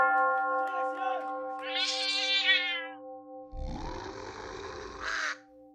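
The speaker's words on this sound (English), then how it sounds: "for the cat, I have a sound file of a Xylardian space feline" A cat-like meowing sound effect, presented as an alien space feline, rises in a long wavering cry, then a harsher drawn-out yowl follows over steady bell-like ringing tones, with no talking.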